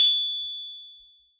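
A single bright notification bell ding, struck once and ringing out clean and clear as it fades away over about a second, alone in silence.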